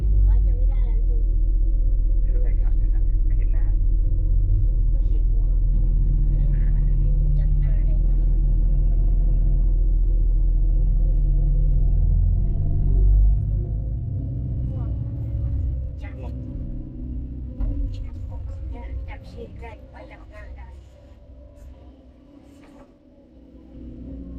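Deep, loud engine rumble from a dump truck on a construction site, strong for the first half and then easing off, with people talking intermittently over it.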